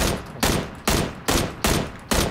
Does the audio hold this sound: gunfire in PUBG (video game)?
yes